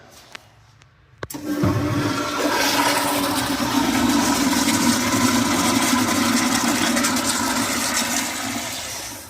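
Wall-hung toilet with a newly replaced gasket flushing: a sharp click of the flush button, then a loud, steady rush of water lasting several seconds before it tapers off.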